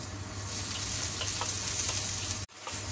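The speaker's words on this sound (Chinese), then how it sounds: "摆咗啲葱白落去先，慢慢煎一煎香佢， 俾翻少少油落去，" Scallion whites sizzle and fry in oil in a hot pan, a continuous close crackling hiss with a brief dip near the end.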